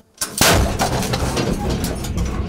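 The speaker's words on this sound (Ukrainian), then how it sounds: "Постріл!" An M109 howitzer fires a single loud, sharp blast up close, followed by a long rumbling roll that fills the rest of the moment.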